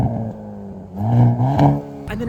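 A Hyundai Kona N car engine is revved hard twice in quick succession, each rise a loud harmonic roar that falls back to a burbling idle, heard up close.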